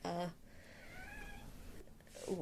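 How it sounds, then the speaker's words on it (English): A house cat meows indoors, one drawn-out wavering call in the middle, faint and close, between brief bursts of a person talking. "I'm gonna wait for my cat to shut up."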